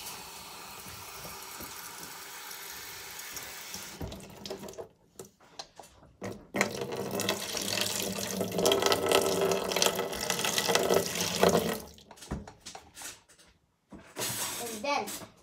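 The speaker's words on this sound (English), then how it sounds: "So, let's fill it up with water." Water from a tap runs into a container, a steady rushing flow that builds louder midway, with brief pauses and a voice speaking around it.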